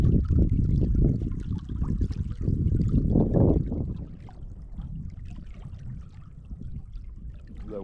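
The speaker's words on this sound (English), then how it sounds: "The winter snows are flowing. This is mid-April right now, and yeah, things are starting to melt." Snowmelt water flowing through spring woods in mid-April: a steady, rushing wash of running water that is fuller for the first few seconds, then eases to a softer, continuous trickle.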